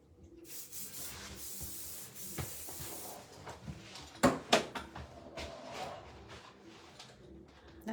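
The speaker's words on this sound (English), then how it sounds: "That hairspray smells so good" Hairspray sprayed while a layered bob is styled: a sustained hissing spray near the start, then softer rubbing and brief brushing noises, all close and fairly quiet.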